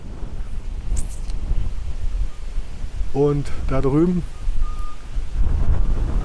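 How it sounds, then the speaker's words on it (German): Strong wind buffets the microphone in heavy low rumbling gusts at the Twistesee lakeside promenade, while someone speaks briefly in German, with a few faint tonal sounds in the middle. "oh, jetzt ist extrem windig hier, sehe ich, fliegst du fast weg"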